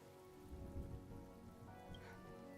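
Rain falls in the Honkai Star Rail video game, a soft, steady patter under a low ambient drone, faint and continuous for a couple of seconds with no voices.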